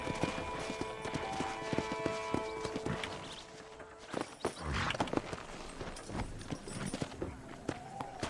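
Horse hooves clip-clop in a steady walking rhythm in a Red Dead Redemption ranch scene, moderately near, mixed with faint ambient game sounds and brief louder hoof thuds.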